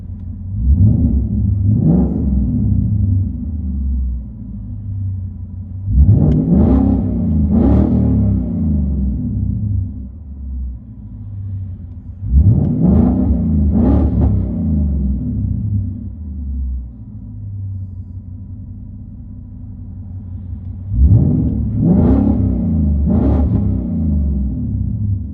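From inside the cabin, the 2023 Mustang GT 5.0L V8 with MBRP cat-back exhaust idles in a steady low drone, broken by three clusters of quick blips and revs, each a pair or trio of short rising bursts.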